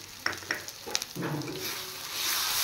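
Cumin powder fries in a pan with oil for a fish dal. A few clinks and scrapes of a spoon stirring come first, then a steady sizzle that builds and holds close and fairly loud, with no talk.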